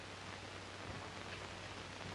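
Steady rain falling on a riverbank setting, a continuous soft hiss with no break, fairly faint and heard alone.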